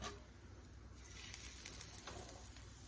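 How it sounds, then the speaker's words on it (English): Quiet, steady sizzling hiss of salmon for a sushi bake cooking in an air fryer preheated to 400 degrees, with a few faint crackles and pops. "I have preheated my air fryer to 400 degrees. You can hear the sizzle."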